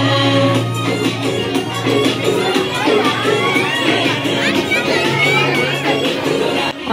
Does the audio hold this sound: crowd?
yes